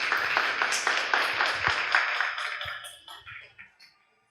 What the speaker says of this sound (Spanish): por favor, un aplauso para nuestro ponente